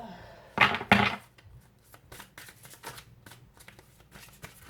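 Tarot cards are shuffled nearby: two loud riffling bursts at the start, then a string of softer repeated card flicks and taps in an uneven rhythm.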